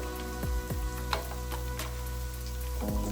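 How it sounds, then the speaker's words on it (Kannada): Indo-Chinese chicken lollipops deep-fry in hot oil with a continuous close sizzle, a few sharp pops and a steady hum underneath. "ಲಾಲಿಪಾಪ್ ಎಲ್ಲ ಚೆನ್ನಾಗಿ ಫ್ರೈ ಆಗಿದೆ"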